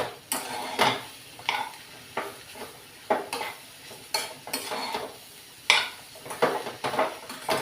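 A spoon scrapes and knocks around a pan of ridge gourd and moong dal curry in repeated irregular strokes, close and clear, with no talking.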